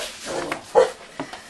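A dog barks close by indoors in a kitchen, a short single bark amid low whimpering sounds, with a couple of softer yips after.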